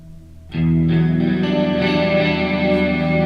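A heavily distorted electric guitar chord, played through effects with a cabinet simulation after them, is struck and sustains loudly, thick and saturated, with no voices.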